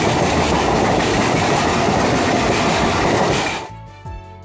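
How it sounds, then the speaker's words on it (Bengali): A train rushes past at a village rail crossing gate, a loud continuous rumble with clattering wheels close by, then it cuts off abruptly as the last cars clear, leaving quieter background sounds. "দাঁড়িয়ে পড়ে তোমাদের দেখালাম ট্রেনটা গেল"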